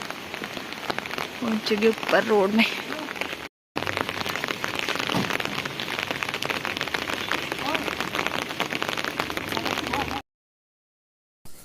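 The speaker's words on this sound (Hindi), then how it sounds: "रोड में बारिश ने ना जैसे जोर पकड़ा हुआ था, इतने बुरे हाल से बारिश लगी हुई थी।" Heavy rain pours steadily onto a road in a dense, continuous hiss, with people talking briefly near the start over the downpour.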